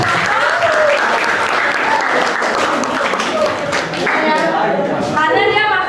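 A class of students bursts into loud, dense clapping that fills the room from start to finish, with voices audible beneath it.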